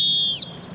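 A lifeguard's whistle at a public pool in Tulsa gives one loud, shrill, steady blast lasting under half a second, then cuts off, leaving faint background noise.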